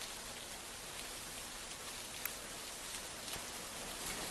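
Heavy monsoon rain pours steadily in Raigad district, Maharashtra, a dense, even hiss of drops hitting surfaces with no pauses and no voices, loud and close throughout.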